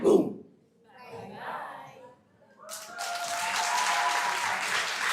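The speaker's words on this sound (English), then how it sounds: "Can we give them another round of applause, please?" Audience applause after a student house's song presentation at Gombe Secondary School, starting with a brief burst, dipping, then rising into sustained, steady clapping from a crowd over the last couple of seconds.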